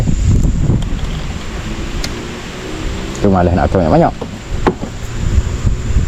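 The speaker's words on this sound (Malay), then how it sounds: "Angin pula kuat kan." Strong wind buffets the microphone outdoors, a loud, continuous low rumble with gusty surges, under a man's speech and a few knocks.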